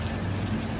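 Steady rain falls at Bi-Tan Suspension Bridge in Xindian, New Taipei City, a dense, even hiss of drops on surfaces with a low background rumble throughout.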